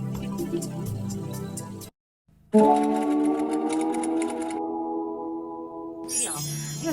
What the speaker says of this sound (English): I will show you how to do quilting on your machine.